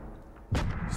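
A single heavy artillery boom from a firing battery in the WWII shooter game Call of Duty WWII, a sudden loud blast after a quiet half second, rumbling on to the end.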